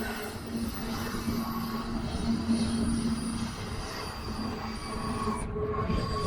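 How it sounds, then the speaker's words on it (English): A freight train with a single lead locomotive and a rear DPU rolling past, heard from about 100 feet up as a steady rumble with a high, sustained wheel squeal, continuous and moderately distant. "So it had one single locomotive, one DPU"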